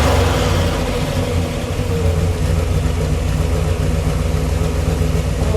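Deep 1959 Chevrolet Bel Air 348 cubic-inch Tri-Power V8 rumbling close by through its original exhaust, with a rev that rises and falls before settling back to a steady throaty idle.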